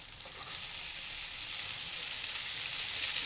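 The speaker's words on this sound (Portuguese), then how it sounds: "Vamos fritar esse alho. Junto com esse alho nós já vamos fritar a cebola." Garlic and onion fry in a pan, giving a steady, bright sizzle that swells slightly at the start and then holds constant, close up and without talk.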